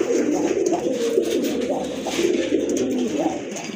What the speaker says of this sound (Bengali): আরেক জোড়া কবুতর দেখেন, খুবই সুন্দর, খুবই অ্যাক্টিভ আর ফ্রেশ কবুতর